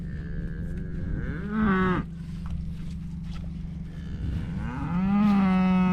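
Cattle on a farm in early February, including a young heifer, give two long, loud, drawn-out moos close by, separated by a quieter stretch over a steady low background hum.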